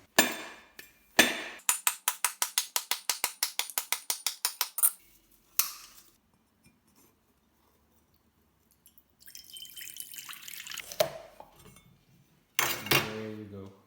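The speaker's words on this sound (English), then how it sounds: "Filipinos know how to open the coconut." Coconut opened with a series of sharp, rapid rhythmic strikes, a fast run of knocks and clinks, followed by scraping and cracking sounds, then a brief burst of noise at the end.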